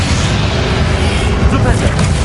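Expelliarmus spell cast during a boss fight against Ranrock in a Hogwarts video game, a dense booming blast with crackling magical noise that stays loud throughout, with a voice partly mixed in.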